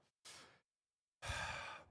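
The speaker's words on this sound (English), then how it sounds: "I'm taking a deep breath there" A slow deep breath drawn in and then let out as a long sigh, two broadband breathy bursts separated by silence, close and fairly quiet.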